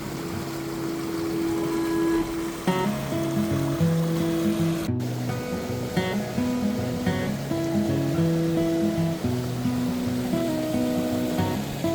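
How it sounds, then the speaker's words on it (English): Hayburn Wyke waterfall pours in a steady, continuous rush of water close by, a dense broadband roar holding constant the whole time, with faint tonal sounds running through it. "So this is Hayburn Wyke Waterfall."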